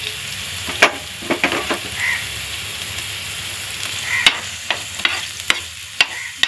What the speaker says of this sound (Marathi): सगळं भाजून घ्यायचं आहे तेलात